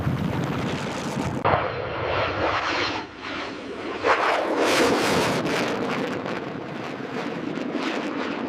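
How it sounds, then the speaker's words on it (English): Loud, roaring engine noise from a B-2 Spirit bomber spooling up at a hangar builds and fluctuates with broadband rush and wind buffeting, steady throughout with surges partway through. "Stand by for engine spool up."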